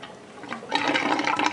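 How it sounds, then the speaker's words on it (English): Water gurgles and rushes through the pump of a remote-controlled nature cart water feature, starting soft and then surging into a steady, close splashing flow. "Excuse the gurgling."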